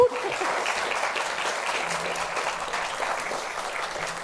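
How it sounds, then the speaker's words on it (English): A theatre audience applauds two presenters after a talk on the Hytale game, steady dense clapping filling the room evenly for the whole stretch, with a faint voice near the start. "Please, everyone, give them a round of applause"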